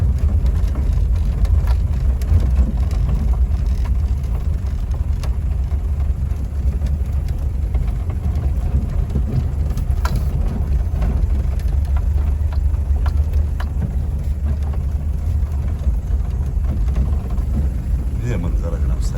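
A Toyota BJ40 engine labours steadily up a hill road in Murree, Pakistan, a continuous low drone with no break under occasional talk.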